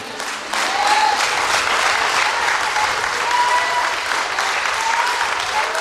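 A church congregation bursts into sustained applause that starts abruptly and holds as a dense, even wash of many hands clapping, with some voices faintly mixed in.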